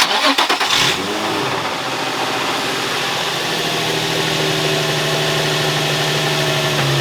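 An Infiniti G35 engine after an oil cooler install cranks with a short burst of starter whirring, catches within a second, and settles into a steady, close idle.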